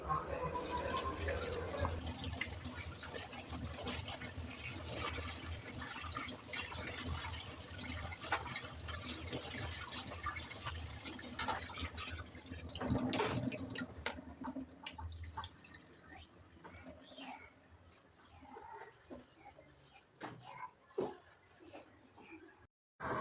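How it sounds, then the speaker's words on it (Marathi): Tap water runs continuously with splashing and rinsing sounds as vegetables are washed under it; a voice talks over it at times before the flow stops near the end. "दोनदा ते तीनदा छान नळाखाली धुवून घ्यायची आहे"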